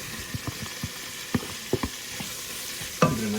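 Onions tossed onto a hot grill beside beer-braised bratwurst, a low background sizzle punctuated by a series of light spatula taps and scrapes, ending in a sharper clank, no voices.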